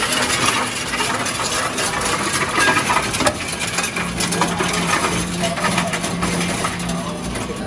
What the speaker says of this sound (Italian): poi mi dice di mettere le monete qua, suppongo, no? Sì. Io le butto tutte.